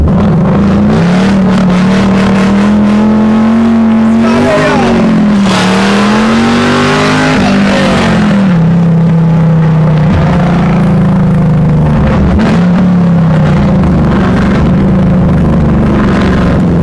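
A 1969 Pontiac Firebird with an LS3 V8 and six-speed manual drives past close by, its engine rising and falling through several revs and gear changes, loud and steady with no talk over it.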